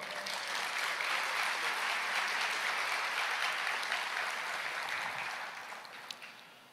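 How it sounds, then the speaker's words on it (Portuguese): A church congregation applauds steadily together, a dense, loud wash of clapping that holds evenly for several seconds before tapering off at the end. "Você pode começar aplaudindo ao Senhor?"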